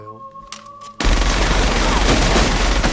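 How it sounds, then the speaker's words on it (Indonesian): A quiet tonal moment with a couple of soft hits in the film Battle Royale gives way to a sudden loud burst of pistol and gunfire that roars on continuously and densely. "tapi Suya menembaknya setelah dia menodongkan Noriko dengan pistol."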